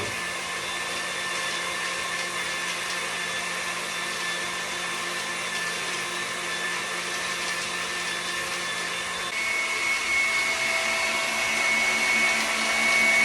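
An electric stand mixer creams butter for a lemon cake, giving a steady motor whir throughout that shifts pitch and grows slightly louder near the end as the speed changes.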